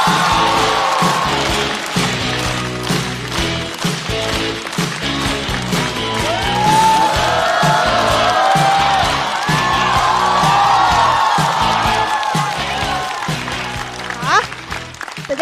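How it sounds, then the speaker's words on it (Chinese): A studio audience at a Chinese stand-up comedy show applauds and cheers as comedian Shanhe walks on, steady clapping with whoops rising and fading over about fifteen seconds, while a host's voice carries over the start. "掌声欢迎山河"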